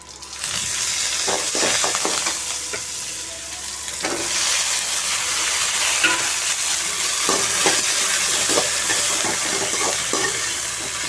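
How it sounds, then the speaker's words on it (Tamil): Okra and curry leaves fry in hot oil for an Andhra-style buttermilk curry, a steady bright sizzle with clattering stirs from a spoon against the pan, close and loud throughout. "நல்லா வெண்டைக்காய் ஒரு ரெண்டு நிமிஷம் நல்லா வதங்கி வரட்டும்"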